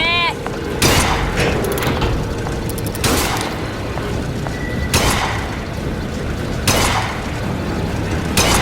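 Gunfire from the BioShock Infinite video game comes as loud blasts roughly every two seconds over a busy, rumbling background, with voices shouting in between.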